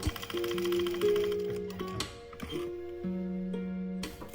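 A sewing machine stitching a Sherpa fabric hood, running in short whirring bursts with a fast mechanical tick and brief pauses between runs, close and clear with no voice.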